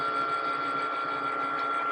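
A Cricut cutting machine slices felt with a premium fine point blade, giving a steady, moderately quiet mechanical whir with a constant whine running through it, with no voices.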